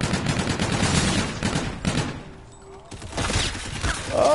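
Gunfire in a shooter video game with an enemy UAV in play: dense, rapid bursts of automatic fire fill the first two seconds, drop to a brief lull, then more shots and game effects return, with a voice speaking under the action.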